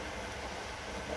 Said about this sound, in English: We happen to be on a train, too.